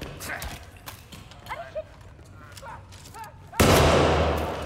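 Gunfire in the Hitman 3 video game's New York level: a loud, sharp shot bursts out near the end, after quieter game sounds and a voice talking.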